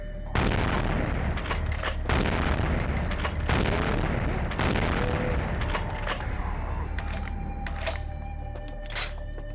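Gunshots in Vampire: The Masquerade – Bloodlines, heavy booming shots fired repeatedly in an indoor hallway, loud and reverberant over a constant low rumble, with scattered sharper cracks later.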